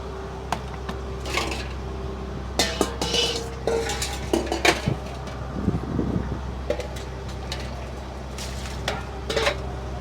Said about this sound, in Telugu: సప్పనలతో బాగా కడిగేస్తే క్లీన్ అయిపోయినట్టుగా